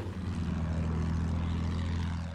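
A propeller-driven attack plane in the World War I shooter Battlefield 1 drones steadily overhead, a constant loud engine hum with no breaks and no talk.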